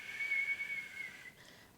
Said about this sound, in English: all you have to do is whistle